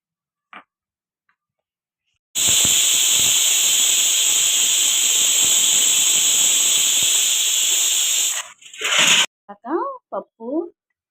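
A pressure cooker with toor dal for raw mango dal releases steam through its whistle in a loud, sustained hiss lasting several seconds, then cuts off and is followed by a few short bursts.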